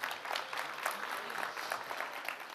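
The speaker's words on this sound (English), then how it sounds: "Let's give a big applause for this organization and who made it possible, with a big applause." Conference audience at Take Off Istanbul 2023 applauds an organization: a sustained wash of many hands clapping, steady and moderately distant, filling the room with no one speaking over it.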